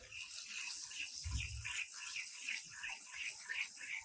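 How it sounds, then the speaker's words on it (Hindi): Ginger garlic paste dropped into hot oil with cumin for a restaurant-style daal chana fry, a steady crackling sizzle throughout with a low thump near the start and a voice talking faintly under it. "अभी इसमें जाएगा अदरक लहसुन का पेस्ट।"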